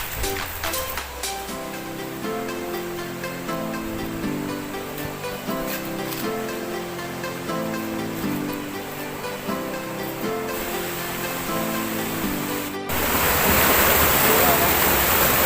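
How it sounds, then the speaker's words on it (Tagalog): Water rushing at Busay de Gracia waterfall, a constant broadband roar that carries beneath faint musical tones and then swells louder and closer for the final few seconds. "Naririnig na natin yung lagaslas ng tubig."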